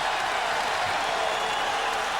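Arena crowd at a 2002 NBA playoff basketball game between the Lakers and Spurs roars in a steady, dense wash of cheering with no break, loud and close throughout.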